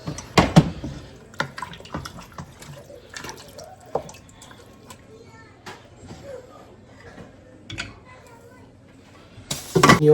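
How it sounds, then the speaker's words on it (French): Water is poured into a cooking pot of Goma beans, giving scattered splashes and drips with stronger bursts near the start and end, while a person talks quietly in between. "je vais mettre de l'eau et puis pour bien laisser cuire"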